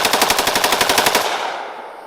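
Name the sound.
AKS-74U rifle firing a burst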